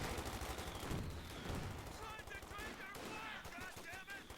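Machine gun fire in a real-time strategy battle, rapid bursts of gunshots rattling continuously with layered battle noise and faint chirping effects over a low rumble.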